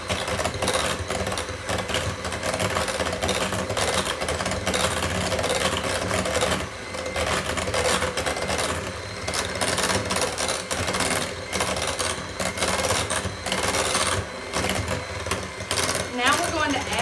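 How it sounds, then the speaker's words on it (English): An electric mixer whirs on a low-to-medium setting, fluffing cream cheese for cheesecake bars, a steady buzzing drone with a slightly uneven texture, with a voice talking over it. "we are going to just take our mixer and we are going to just fluff this cream cheese just a little bit on a low to medium setting"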